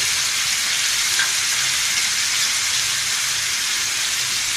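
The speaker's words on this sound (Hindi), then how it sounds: "अब इसमें हम ये अदरक और लहसुन डाल दें।" Steady loud sizzling as ginger and garlic go into a pan of frying meat stew with yogurt and spices, a continuous close hiss with no talking.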